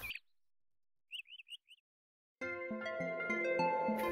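A small bird chirps a quick run of four high tweets after a brief opening note, followed by a louder burst of tonal music.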